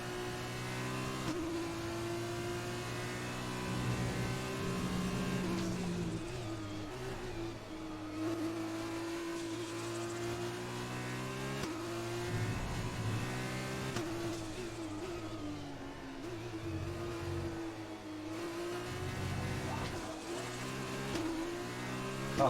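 An F2 race car in F1 2020 driving hard, its engine droning steadily and climbing through gears with repeated upshifts and brief lifts over about twenty seconds, close and alone without talk.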